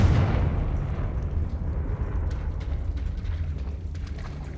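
A Confringo blasting spell goes off in Hogwarts Legacy with a deep, rumbling explosion. The boom hits hard at the start, then tails off into a long, low roar.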